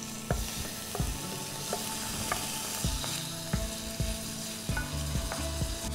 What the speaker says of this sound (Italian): l'aglio, come vedete, inizia a sfrigolare nell'olio